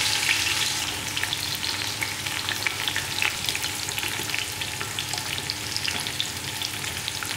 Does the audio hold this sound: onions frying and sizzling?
yes